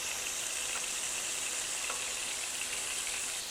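Pork chops sizzle steadily in a hot frying pan, a loud, even hiss with faint crackles running throughout and no talking.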